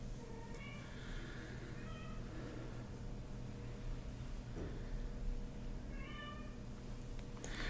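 A mother cat kept apart from her weaning kittens meows repeatedly, the calls faint and a little distant over a steady hiss, in a few short bursts spread across the stretch.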